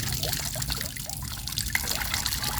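Shrimp, fish and apple snails are rinsed in water outdoors, giving a steady wet trickling and sloshing hiss with small splashes and no talking.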